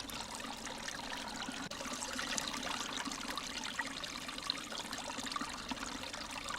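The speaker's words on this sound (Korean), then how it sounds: "뒷산에서 시작된 물이 마을로 내려오면 작은 개울이 된다" A small mountain stream trickles and burbles as it runs down toward a village, a steady, soft, close flow of water with no voices.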